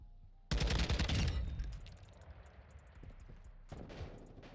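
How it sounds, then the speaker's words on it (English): A loud burst of gunfire from Call of Duty Modern Warfare II kicks in suddenly, a dense fusillade that gradually thins into a ringing tail, followed by a second, softer flurry of shots near the end. "Weapon sounds in this game are crazy."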